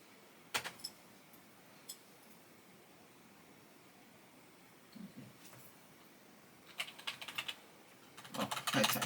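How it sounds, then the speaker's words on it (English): Keystrokes on a computer keyboard come in short sparse bursts, a lone tap, then a quick cluster and a denser flurry of clicks near the end, fairly faint against a quiet background hiss. "Oh, I typed it in the wrong place."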